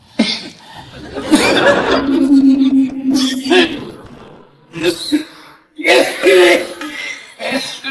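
Harsh, close coughing in several bursts, some drawn out and throaty, separated by short pauses.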